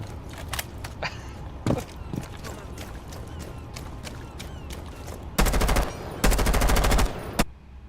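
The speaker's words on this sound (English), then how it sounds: "what you're witnessing right there is me pre-firing an area" Rapid automatic gunfire in Rainbow Six Siege, a player pre-firing an area: scattered shots early, then two loud sustained bursts near the end, with game ambience and faint radio-style voice lines underneath.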